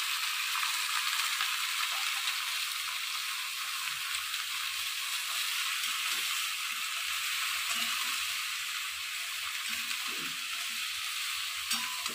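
Fish fries in a pan with a steady, close hiss and crackle of hot oil that carries on evenly, with no one talking.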